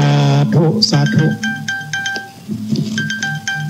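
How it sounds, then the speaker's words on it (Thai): A phone rings close by with repeated bright electronic chiming tones in a steady pattern, coming in after a stretch of sung or chanted vocal tones and continuing to the end. "ได้ยินเสียงโทรศัพท์อยู่ใกล้ๆ"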